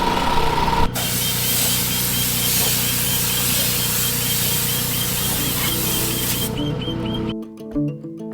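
A loud, continuous hiss of spraying runs steadily alongside a droning motor, then cuts off near the end.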